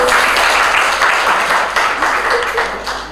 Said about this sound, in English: You can also give the judges a round of applause.